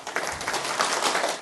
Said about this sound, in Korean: 오늘 세 번째 강의 여러분들의 큰 박수로 시작하도록 하겠습니다